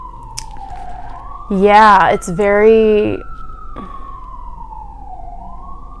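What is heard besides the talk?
sirens going off outside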